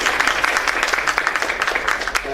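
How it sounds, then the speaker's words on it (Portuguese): Applause from an audience at a Python programming meetup after a talk, a steady patter of many hands clapping close by for a couple of seconds with no voices over it. "Palmas para a Letícia."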